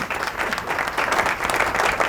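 Studio audience applause during a Ramadan television transmission, a steady dense clapping that fills the short stretch at even loudness.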